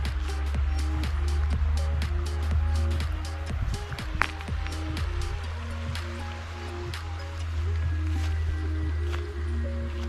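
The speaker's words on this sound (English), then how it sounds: "let's listen to the water running like" A stream babbles and trickles steadily nearby, with small drips and splashes over a low rushing bed.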